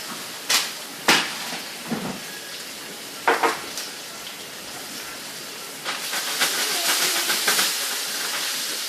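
Food searing in olive oil in a frying pan gives a steady sizzling hiss, broken by a few sharp clanks of pan and utensil, with the sizzle swelling louder toward the end.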